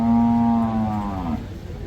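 A cow at a cattle market in Chattipparamba lets out a single loud, drawn-out moo that fades after about a second, with market background noise continuing beneath it.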